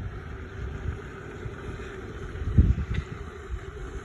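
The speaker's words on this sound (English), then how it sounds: "I know it's very windy out here" Gusty wind rumbles and buffets outdoors, steady low roaring with a stronger blast near the end, no voices.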